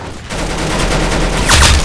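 Gunfire in the Roblox game Arsenal lands a headshot: steady in-game noise with a sharp burst of shots near the end, fairly loud, no talk.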